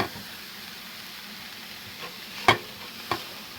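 Onions fry in a pan with spices, giving a soft steady sizzle throughout, with a few faint clinks of a utensil stirring near the end.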